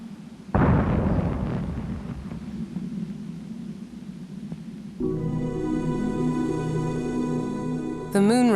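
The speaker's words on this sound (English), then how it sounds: "The fourth rocket also blew up." A Cold War Soviet test rocket explodes in a sudden heavy blast that rolls into a long, rumbling roar, later joined by a steady droning tone.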